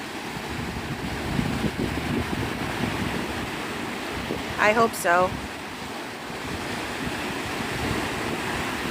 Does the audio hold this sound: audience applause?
no